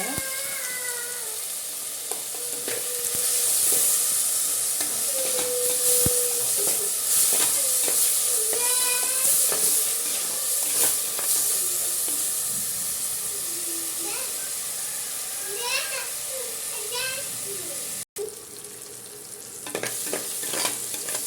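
Chopped tomatoes sautéing with salt in a pan for a squid stew: a steady close sizzle with repeated stirring scrapes, one brief cut near the end, no talk.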